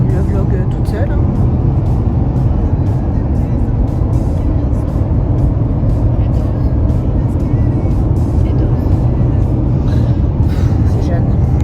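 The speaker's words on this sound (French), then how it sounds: "Nous sommes dans la voiture pour retourner à Göteborg." Inside a car on the road back to Gothenburg: a steady, loud engine and road rumble runs throughout, with occasional light clicks on top.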